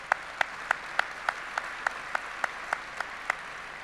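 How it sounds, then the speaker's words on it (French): A few sparse, evenly spaced claps ring out at a French housing-policy congress, about three per second, steady and isolated rather than a full ovation, over a quiet room. "Je ne reçois pas des applaudissements à tous les congrès."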